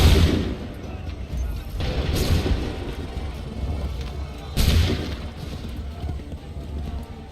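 Cannon artillery fire in the Assassin's Creed III video game: three heavy booming blasts, spaced a few seconds apart, each with a rumbling tail, and faint voices in the background.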